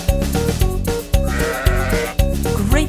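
A singer's voice imitates a sheep bleating, repeated short bleats set over a bouncy children's song with rhythmic backing music, loud and close.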